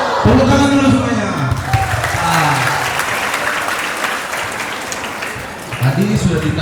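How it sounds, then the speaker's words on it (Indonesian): A school audience of students claps in a steady, dense wash of applause, loud and close, with a voice speaking over the start and again near the end. "Tepuk tangan dulu semuanya."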